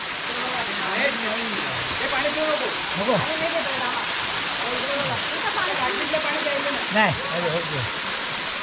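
Musalavzar waterfall in the Sahyadri hills roars as a steady, loud broadband rush of falling water throughout, with voices talking over it now and then.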